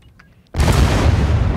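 Fireworks and gas catching fire and exploding, a sudden loud broadband blast that cuts in after a quiet moment and carries on as a sustained roaring, crackling burn.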